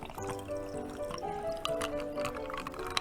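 Whiskey pours into a glass in a saloon, a steady liquid trickle and splash lasting a few seconds, close and clear with faint background murmur but no talk.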